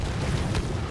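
A frag grenade blast in the Titanfall beta on Xbox One, a short low boom with rumbling body and a brief bright burst near the middle, loud and close.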